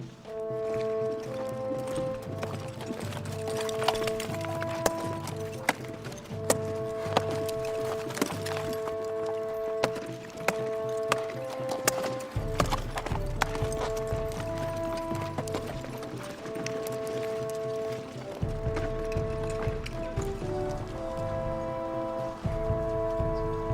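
A horse's hooves beat in a rapid irregular clatter over an outdoor exercise ground, mixed with a musical score and scattered sharp knocks.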